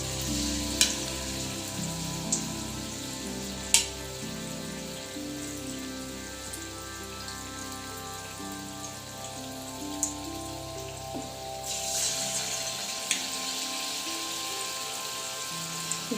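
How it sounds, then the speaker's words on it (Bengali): Milk-coated Gokul pithe frying gently in oil, a steady soft sizzle with fine crackling running throughout, broken by a few sharp clicks and taps, close and moderately quiet with no voices. "এইভাবে এক একটা করে কোট করে করে ভেজে নিতে হবে।"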